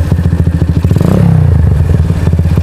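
A Honda CB motorcycle engine runs close and loud with a rapid, even, throbbing idle. Its revs rise briefly in the middle and then settle back to a steady putter.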